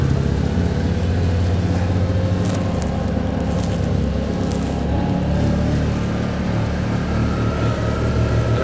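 Car engine running steadily up close as the vehicle pulls away on a farm during lambing season, a continuous low rumble with slight shifts in pitch and no talking.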